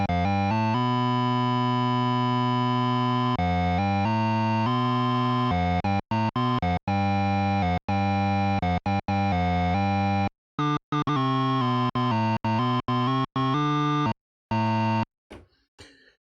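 Buzzy synthesizer tones, three tones in VCV Rack modulated by noise, hold a sustained harmonic drone, then break into rough, choppy bursts and stutters, loud and electronic with no voices.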